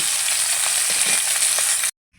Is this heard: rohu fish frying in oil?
yes